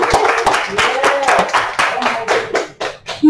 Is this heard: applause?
yes